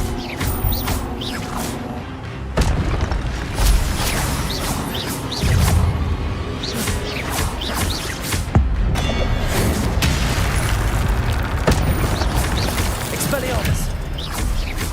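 Spell-casting effects from Hogwarts Legacy, including the Expelliarmus disarming charm, burst out as loud repeated booms, whooshes and crashing impacts in quick succession, with voices talking over the chaotic combat.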